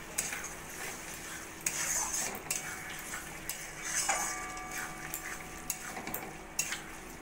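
A spoon stirs kasuri methi and garam masala into chicken gravy in a pan, making repeated metallic clinks and scrapes over a soft background simmer.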